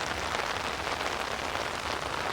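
Heavy rain pours down steadily outdoors over a field, a dense, even hiss of drops hitting the ground with no pauses.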